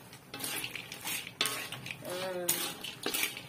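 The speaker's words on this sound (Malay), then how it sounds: "Walaupun kita dah kacau kan, dia punya bunyi garing tu masih ada." Crunchy spicy cassava chips being tossed and mixed with a generous amount of sambal, giving close, dry rustling crunches in uneven bursts, with a brief tonal sound partway through.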